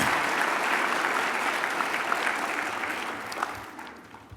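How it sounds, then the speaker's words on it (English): Conference audience applause, sustained dense clapping from a crowd that gradually fades toward the end, with no speech over it. "Another round of applause for the Donna Gambrell."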